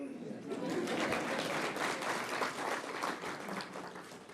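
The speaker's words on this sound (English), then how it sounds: "Namibia can be clapped for" A conference audience applauds Namibia with sustained, dense clapping, moderately distant, holding steady for several seconds before thinning slightly.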